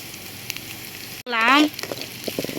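Mustard seeds frying in hot oil in a pan: a continuous sizzle with small crackles, briefly cut by a short rising, whistling tonal sound in the middle.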